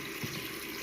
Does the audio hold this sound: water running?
yes